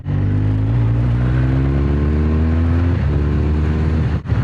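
BMW R1200RS motorcycle engine pulling hard in third gear, a loud steady drone rising smoothly in pitch for several seconds, briefly dipping near the end, heard from the rider's position amid wind.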